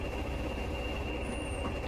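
Steam train braking in Train Simulator Classic, a Class 20 run from Stranraer Harbour to Dumfries: a steady rolling rumble of wheels on rail with a constant high metallic brake squeal running through it, no voices.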